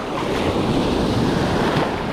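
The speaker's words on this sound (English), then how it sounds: "You'll notice the waves picking up here." Ocean waves roll onto a shallow beach with high sandbars, a loud, close, continuous wash of surf with wind noise over the microphone and no voices.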